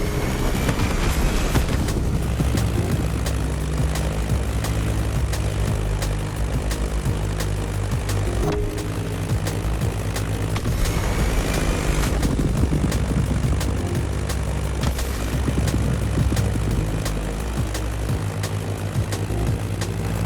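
A Beechcraft Staggerwing biplane flies in the racing game The Crew Motorfest, its propeller engine giving a continuous loud droning roar with a dense low rumble throughout.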